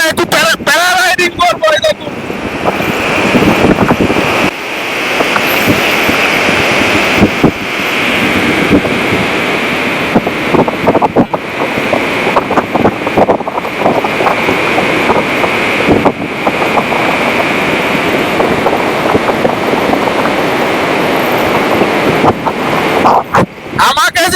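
Paramotor engine roaring steadily throughout a flight, loud and continuous with heavy wind buffeting against the microphone; a voice speaks intermittently beneath the drone.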